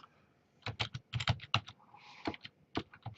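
Rapid clatter of keystrokes on a computer keyboard, short bursts of clicks with brief pauses, close and fairly quiet, no voices.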